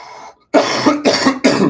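Three harsh, close coughs from a person getting over a cold, in quick succession after a brief pause, each one loud and throaty, with no talking.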